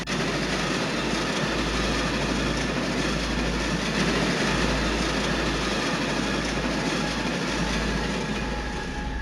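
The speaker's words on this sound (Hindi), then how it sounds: "ट्रेन अपनी रफ्तार पकड़ चुकी थी, लेकिन पहियों की आवाज़ छुप छुप नहीं, बल्कि ऐसी आ रही थी जैसे कोई जंजीरों में घसीट रहा हो।" A moving train's wheels clatter on the rails as a loud, continuous rumble with a steady rhythmic clack, heard close from on board, with no voices.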